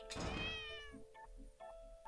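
A cat meows in The Cat Lady video game, one drawn-out tonal cry close and clear, followed by a couple of shorter, fainter chirps.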